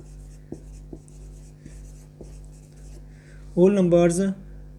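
Pen or pencil scratches numbers onto paper in a 6th-class maths lesson, a few faint short strokes at an even pace before someone briefly speaks.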